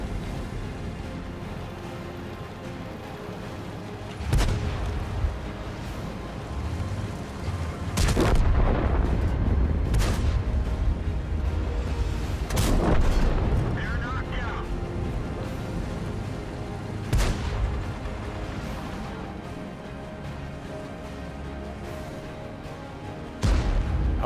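Tank cannon fire in World of Tanks: a handful of heavy, booming gun reports spaced several seconds apart, each with a rumbling tail over steady engine and battle ambience.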